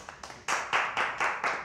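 Several people clap together at a family celebration, starting with a few scattered claps and swelling into steady, fairly close rhythmic clapping with no talking.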